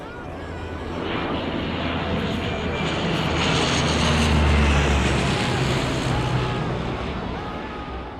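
Search plane flying over snowy Andes mountains, its propeller engine drone swelling to a loud peak mid-pass and then fading, a continuous rumbling roar.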